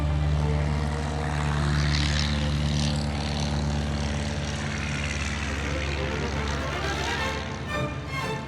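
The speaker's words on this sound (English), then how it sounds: "Planes taxiing, planes flying." Propeller airplanes taxi and fly at an airfield, their engines making a loud, steady droning roar that stays close and continuous for the whole stretch, with no voices over it.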